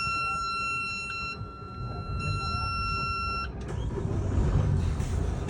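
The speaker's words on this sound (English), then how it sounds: "I'm just going to start the engines." Boat engines starting on a new boat at departure, a low rumble that rises and swells louder near the end, with steady electronic beeping tones early on.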